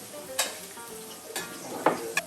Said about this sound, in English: there's our sizzling golden brown halibut